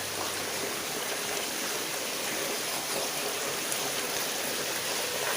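Water trickles and splashes steadily through a homemade garden pond filter planted with natural plants, a continuous close, bright rushing wash with no pauses.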